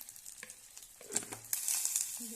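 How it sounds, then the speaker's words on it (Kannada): Goat brain fries in a pan with chilli powder, pepper and salt, giving a soft, close sizzle with light stirring and scraping that grows louder toward the end. "ಇದನ್ನ ಆಮ್ಲೆಟ್ ರೀತಿ ಆಗಿರುತ್ತಲ್ಲ, ಈ ರೀತಿ ಹುರ್ಕೊಳ್ಳೋಣ."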